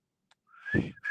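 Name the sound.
person imitating a father's signature whistle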